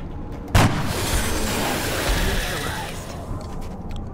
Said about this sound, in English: Laser just fires through the conduit